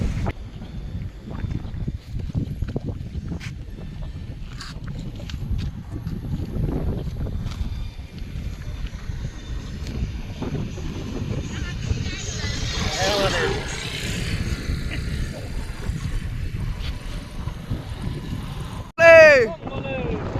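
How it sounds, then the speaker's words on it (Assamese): Early-morning wind gusts buffet the microphone outdoors near a Shiva temple in Assam, in a low, blustery rumble that rises and falls, with a brief louder rustle near the end. "মজা এটা বতাহ মাৰিছে যিহেতু ৰাতিপুৱা ফাৰ্ষ্ট টাইম বতাহ মাৰে"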